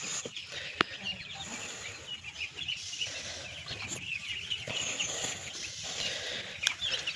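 Chickens cluck and murmur in a busy flock on a poultry farm, with short repeated calls scattered over a steady farmyard background and a few sharper clicks.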